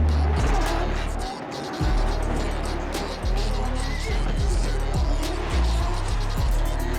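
Drift cars race at round 3 of the 2025 RDS GP Russian drift series at the Nring circuit, with loud, continuous engine roar and tire squeal that dips briefly, and a voice talking over it.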